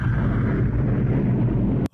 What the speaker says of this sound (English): It's a big explosion.